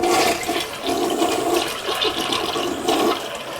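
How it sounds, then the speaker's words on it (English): A toilet flushes in a home bathroom, water rushing loudly and steadily through the bowl for several seconds with no talking. "And when you're done, just go ahead and flush it."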